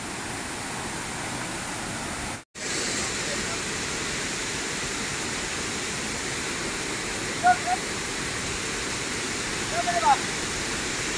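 Strong floodwater rushes past as one steady, loud broadband roar, with a brief dropout early on and a couple of faint squeaks later.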